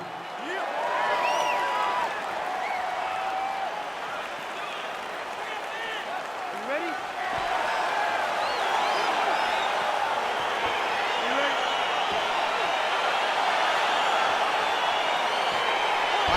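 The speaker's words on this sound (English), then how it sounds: "Crowd getting excited as this fight gets underway" Arena crowd roars and applauds as a UFC bout begins in the PS5 UFC video game, featuring Choi Doo-ho. The cheering is a steady, dense wash of noise that swells slightly partway through and holds loud throughout.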